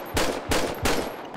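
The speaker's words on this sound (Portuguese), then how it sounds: "Vocês vão ouvir mais um eco do tiro, tá ligado?" Three evenly spaced shots from a .38 revolver in GTA 5, each a sharp, loud crack followed by a short echoing tail, about a third of a second apart.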